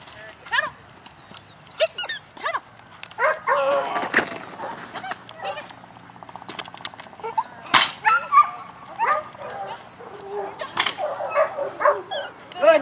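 A large dog barks in repeated sharp bursts during an agility demo at a hunting and fishing show, heard over an announcer's talk and crowd noise.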